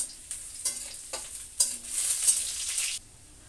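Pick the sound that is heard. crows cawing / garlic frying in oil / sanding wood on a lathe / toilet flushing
garlic frying in oil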